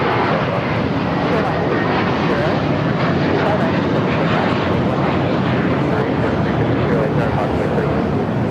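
A JetBlue A321 airliner at LAX gives a loud, steady jet engine roar that fills the whole stretch, with voices talking over it.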